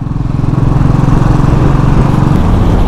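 Motorcycle engine droning steadily and fairly loud while riding slowly over a potholed, speed-breaker-strewn stretch of the Mumbai-Goa highway in heavy rain, with a continuous rumbling hum and no talk.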